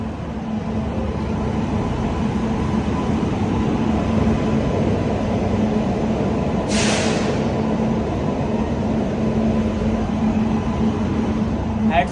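A Konkan Railway train runs at night, heard from inside as a loud, steady rumble and rattle of the wheels on the track, with a brief hiss partway through.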